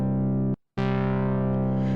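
A Bazille synth holds a bright, buzzy sustained tone with white noise modulating its filter cutoff, adding a grainy hiss. The tone cuts out briefly near the half-second mark, then returns just as loud.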